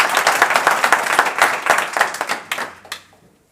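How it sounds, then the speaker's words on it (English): Audience applause at a startup pitch competition final, a dense burst of many hands clapping in a hall that thins out and fades within about three seconds. "give Sabina a warm applause"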